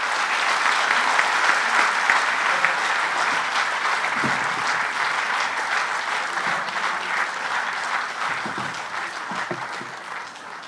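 A large audience at a school's golden jubilee celebration in India applauds loudly as the Vice President is invited to speak, a thick, sustained roar of clapping that tapers slightly at the end.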